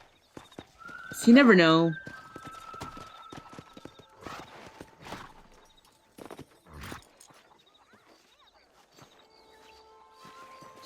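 A horse in Red Dead Redemption 2 whinnies loudly near the start. Scattered hoof clops and footsteps follow as it is walked to a hitching post, and someone talks briefly over the sounds.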